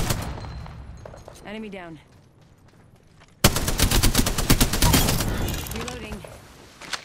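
Bursts of automatic gunfire in Apex Legends, a sparse shot or two early, then dense rapid fire from midway on, loud and close, with a voice speaking game callouts over it.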